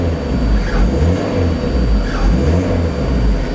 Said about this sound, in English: let's try revving it up a little bit